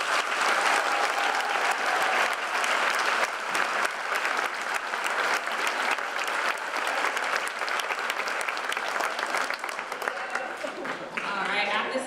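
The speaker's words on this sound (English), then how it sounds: "Let's give another 8th graders a big round of applause." Sustained applause from an audience at a junior high eighth-grade promotion ceremony, loud and steady throughout before tapering slightly near the end, with some cheering mixed in.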